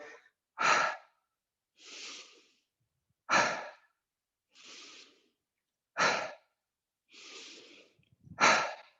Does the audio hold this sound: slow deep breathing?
yes